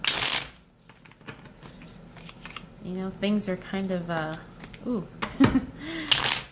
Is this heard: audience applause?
no